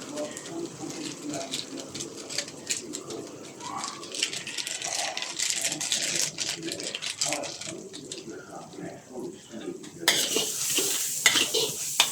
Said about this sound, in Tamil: இந்த எண்ணெயில் கொட்டி வதக்குங்க